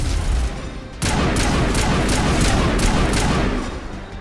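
Rapid bursts of gunfire from the video game Mass Effect, a loud continuous fusillade of repeated shots with a brief pause before it resumes, dense and close, with no talking.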